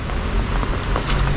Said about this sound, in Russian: Пока дождик, ребят, пока вот так вот.